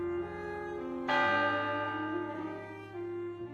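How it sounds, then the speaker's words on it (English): An old clock chimes in a quiet room in the game Reverse 1999, a deep resonant strike that swells suddenly and rings on, decaying slowly over several seconds with no talking. "The clock chimes 3 times and the room goes silent."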